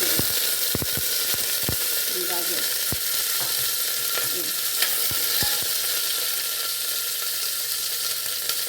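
Garlic cloves, fresh curry leaves and green chillies sizzling loudly in hot oil: a steady, close hiss throughout, with a few sharp clicks and spatters near the start.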